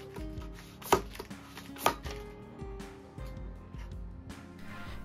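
Two sharp knocks from striking the handlebar of a JBL Partybox 310 speaker outward to free it during a teardown, followed by lighter rattling taps and clatter of plastic parts.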